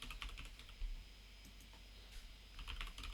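Quiet keystrokes on a computer keyboard come in short irregular bursts of clicks, close and soft against a low background hum, with no talking.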